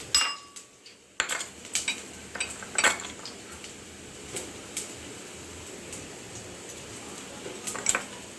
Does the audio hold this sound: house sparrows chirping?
no